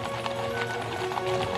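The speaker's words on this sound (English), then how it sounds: "Look at those black horses, the cavalry are beautiful" Cavalry horses, black mounts in a procession, clop their hooves steadily in a dense, continuous rhythm of many hooves under a busy outdoor ambience.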